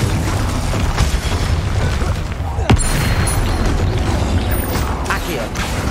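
The Confringo explosive spell goes off in the Hogwarts Legacy video game: a loud, sharp blast cracks through near the middle, set against a constant dense bed of rumbling combat noise and mechanical clatter.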